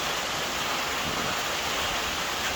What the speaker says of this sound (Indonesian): ini lho, Bro, hujan ngene iki